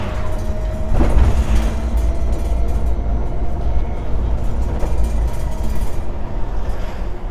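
An electric-converted Land Rover Defender pulls away on the road in 4th gear, giving a steady, fairly loud low rumble of road and drivetrain noise heard from inside, with no voices.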